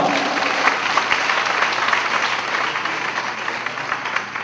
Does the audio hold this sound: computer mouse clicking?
no